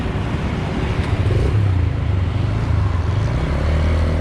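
Motorcycle engine restarted during a ride toward Kashmir, idling and running steadily close by with a low continuous rumble throughout.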